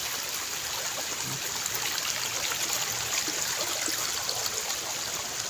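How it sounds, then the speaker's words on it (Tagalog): Steady rushing water from a strong stream current in a forest in Cavite, a constant close wash of sound with no voices. "nandito tayo sa gitna ng kubatan mga sasakyan malakas ang agos ng tubig"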